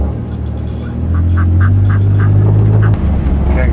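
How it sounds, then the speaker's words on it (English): Ducks quack in short repeated bursts over a low steady rumble, fairly close, with no talking. "So you have to give way to the ducks here."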